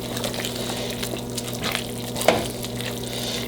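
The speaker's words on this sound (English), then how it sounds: "we're going to dump that whole pan with the liquid" Wild rice and its cooking liquid poured from a pan into a pot of creamy chicken soup, a steady close splashing gush with a small clatter midway, no talk.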